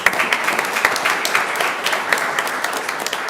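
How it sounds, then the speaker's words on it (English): An audience at a school board meeting claps for a high school tennis player. The clapping is brief and dense, a close, lively patter with a few sharper individual claps. "Let's clap for him."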